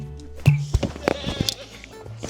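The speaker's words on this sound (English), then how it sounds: "Hey, little goats." Goats at an outdoor horse shelter give several short bleats in quick succession, close and moderately loud, with faint rustling between calls.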